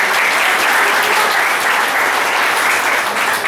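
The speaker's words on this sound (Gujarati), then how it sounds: "તાળી પાડી ધન્યવાદ" A church congregation breaks into loud, close, sustained clapping during a sermon, a thick continuous wall of hands with no voices on top.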